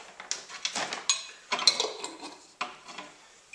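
A teaspoon swirls ascorbic acid into a graphene oxide solution, giving a close series of quick scraping clinks and rattles against the container, loud and alone.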